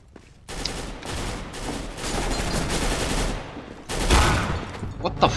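Gunfire from the Nova shotgun in CS:GO, with bursts of shots and rapid fire from the game in a dense, loud stretch and a stronger blast near the end.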